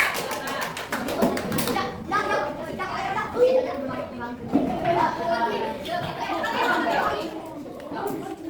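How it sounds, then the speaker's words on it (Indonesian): A group of children in a classroom clapping together in a burst for a student group, mixed with chatter and young voices talking over the applause. "Tepuk tangan buat kelompok 5."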